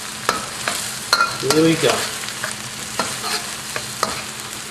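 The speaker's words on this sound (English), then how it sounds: "So I'm heating up my aromatics right now." Aromatics of chili, shallot, turmeric and diced tomatoes fry in a wok for eel, with a light sizzle and sharp scraping clicks from a utensil against the metal; someone speaks briefly near the start.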